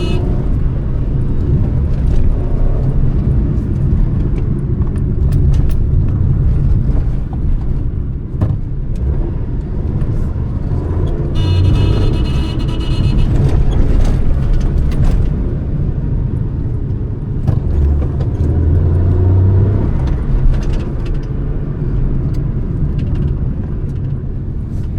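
A Suzuki Alto K10 drives through traffic on twisty mountain roads around Shimla, its engine a steady close droning hum inside the cabin throughout, with road rumble and occasional brief higher-pitched whines.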